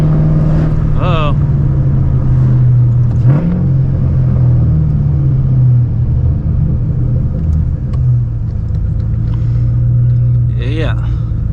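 A 2005-2009 Ford Mustang engine drones steadily at low pitch throughout, with tire and road rumble, as the car cruises and accelerates on a highway under occasional talk inside.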